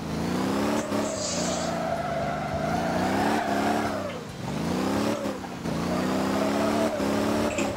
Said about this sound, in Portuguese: A caminhonete está com muito motor.